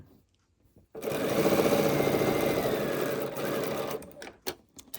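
Sewing machine stitching quilt pieces with a quarter-inch seam, a close, steady mechanical whirring run of about three seconds that starts abruptly after a quiet moment and ends with a few faint clicks.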